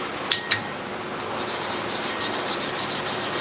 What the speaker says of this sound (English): I have to spread the abrasive on an even coat around the plate. That's what I'm doing with this little block of wood.